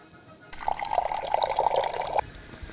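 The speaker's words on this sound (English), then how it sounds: "Pour some olive oil." Olive oil pours into a pan on a stove in a steady liquid stream lasting under two seconds, close and clear, starting abruptly and stopping sharply, with faint room noise before and after.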